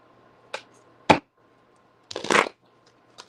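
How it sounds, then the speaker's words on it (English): A deck of tarot cards is shuffled by hand in a quiet room, giving three short, close riffling bursts separated by pauses over a faint steady hum. "let me get this shuffle"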